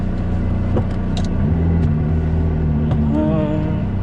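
McLaren 675LT supercar reversing out of a tight spot, a steady low engine rumble close by with a slight rise in revs and no talking.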